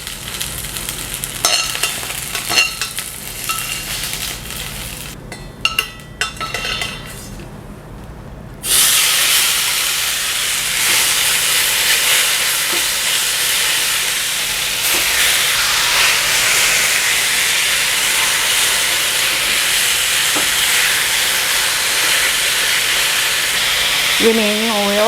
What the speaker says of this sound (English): Green onion is being really brown, almost to the point it's burned